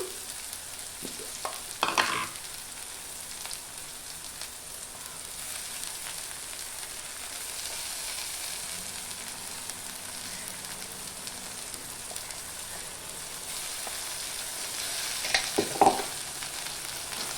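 Ginger paste fries in a pan of boti curry, a faint steady sizzle with a few sharp clatters of a spoon stirring, heard close and low without talking.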